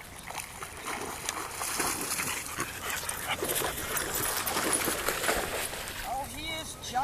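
Dogs including a Labrador and a boxer whimper during off-leash recall training with remote pager collars, high whines coming and going amid splashing water, outdoor bustle and people talking.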